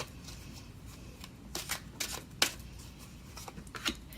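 Tarot cards are shuffled for a reading, making quiet soft riffles and a few crisp snaps in short irregular bursts, close by with no talking.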